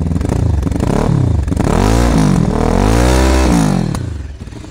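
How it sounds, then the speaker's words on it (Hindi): Zongshen RX3S 400cc touring motorcycle engine running close up, a loud steady drone that rises in a smooth rev and falls back, with some mechanical clatter and no talking. "इसका जो कि इंजन का साउंड है वो मैंने आपको इसका चेक करवाया"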